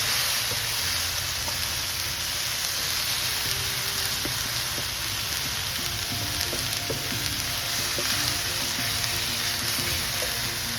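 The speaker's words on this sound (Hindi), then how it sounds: "और अब ये साथ ही हम अपने ग्रीन चिलीज ऐड करेंगे, इसको थोड़ा सा सौटे करेंगे" Green chilies sautéing in a pan for an egg omelette sizzle loudly and steadily, a continuous dense crackle of hot oil close by with occasional stirring ticks, and nobody speaks.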